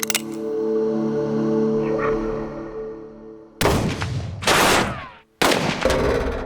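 Powerful revolver shots fired at a metal playground merry-go-round outdoors: several loud, sharp blasts with ringing tails that break through a steady background hum.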